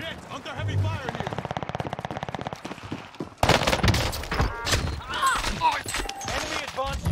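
Heavy automatic gunfire in Call of Duty's Rebirth Island, a rapid sustained burst from an Armaguerra 43 SMG and then dense overlapping shots and blasts. A player talks over the fire.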